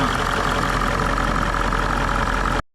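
Range Rover engine idling steadily while warming up, a close, continuous low rumble that holds level and then cuts off abruptly near the end.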